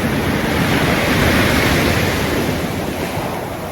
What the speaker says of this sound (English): the waves crashing against us